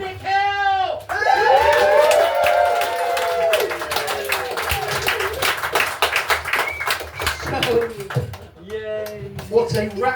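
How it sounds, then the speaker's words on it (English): An audience at a comedy gig in a pub gives a loud, sustained round of applause and cheering that swells after a brief pause, with a voice talking over the start and end. "What a rapturous, apathetic round of applause that was."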